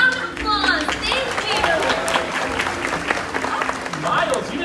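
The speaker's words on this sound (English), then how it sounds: "let's give our trees a round of applause" An audience applauds and cheers throughout at a live bird show, with sustained clapping close by, a few whistles, and voices mixed into the crowd noise.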